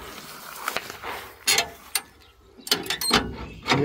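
An old bumper jack under a 1960 Ford Galaxie Starliner is worked by hand, giving loud, close, irregular metallic ratchet clicks and clanks in short bursts outdoors.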